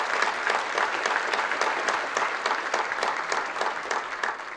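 Sustained applause from a gala audience fills the room, a dense steady patter of many hands clapping at even loudness, with no voices standing out.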